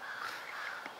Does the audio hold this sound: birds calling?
yes